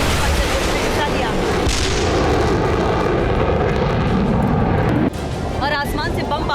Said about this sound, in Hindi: इन हमलों में इजराइल के फाइटर जेट्स के अलावा F-35 स्टिल्थ विमानों ने भी हिस्सा लिया।